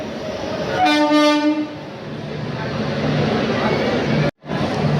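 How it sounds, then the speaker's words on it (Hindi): An Indian Railways Amritsar–Jaynagar express train rumbles along with a steady rolling clatter, a loud horn blast sounding near the start, then continued wheel and carriage noise heard close by. "कौन सी ट्रेन है ये? सरयू वामिका एक्सप्रेस, अमृतसर जयनगर।"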